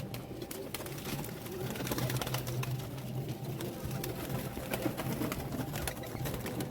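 Pigeons coo softly amid a busy outdoor flock, with flapping and rustling under steady background noise, faint and somewhat distant.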